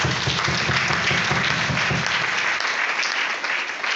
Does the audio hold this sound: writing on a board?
no